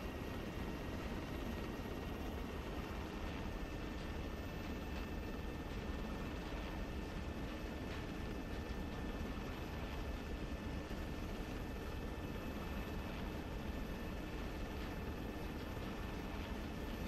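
Helicopter in the video game ArmA 3 flying in for a gun run, a steady droning rotor and engine wash holding at an even level throughout, with no voices.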